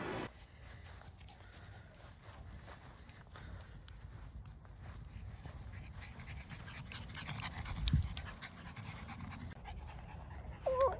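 Dogs pant steadily while out on a walk on a fine day, a soft continuous breathy rhythm close by with faint footsteps underneath and a brief louder rustle near the end.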